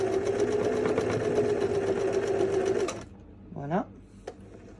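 An antique Singer Starlet 354 sewing machine runs a zigzag overcast stitch in a steady, close mechanical whir for about three seconds, then stops, followed by a brief spoken word and a small click.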